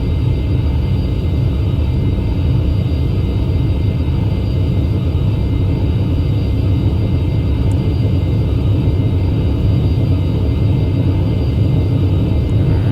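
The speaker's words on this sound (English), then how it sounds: "At around 140, we can begin the takeoff." A Boeing 737-800 in a flight simulator game builds into a steady, loud rumbling roar during its takeoff roll, a continuous dense whir with no talking.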